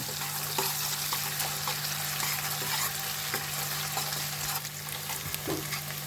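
Onions with ginger-garlic paste fry until soft in a pan, a dense continuous sizzle with occasional stirring scrapes and an underlying hum, close and unbroken by talk.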